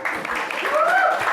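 An audience applauds during an evening lecture, with dense, steady clapping from a room full of people and a voice talking briefly over it.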